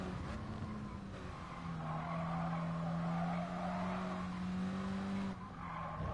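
A Renault Sport race car under trail braking in GT Sport, its tires squealing in a long, sustained skid over a steady engine drone. The squeal eases briefly and then returns, with no talking.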